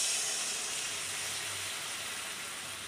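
Kerala-style nendran banana pieces, dipped in batter, sizzle steadily in hot oil, a continuous close hiss with no talk.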